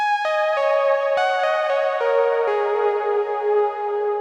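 A bright synth lead plays a slow melody of sustained, harmonically rich notes, each changing pitch cleanly, alone with no voices.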